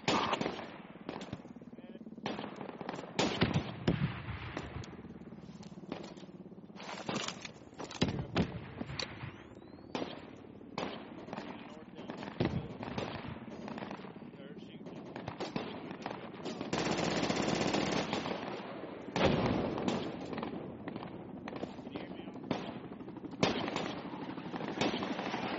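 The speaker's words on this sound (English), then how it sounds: "They're mortaring us again." Rapid bursts of gunfire and heavier explosive thumps from mortar rounds in the Project Reality shooter game, a dense, continuous barrage of near and distant shots across the whole stretch, with a brief voice heard among them.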